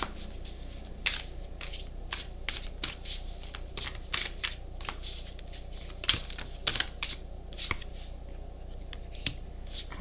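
Oracle cards being shuffled by hand, a quick irregular run of crisp flicks and riffles close to the ear, with brief pauses between bursts and no voices.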